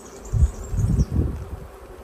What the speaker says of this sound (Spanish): esta colmena hace unos ruidos muy extraños